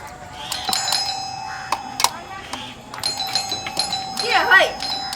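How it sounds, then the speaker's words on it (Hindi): A doorbell rings repeatedly in a home setting during a Maithili comedy sketch, its bright chimes recurring through the clip over a steady tone, with voices and background chatter around it. "घंटी मार छिया"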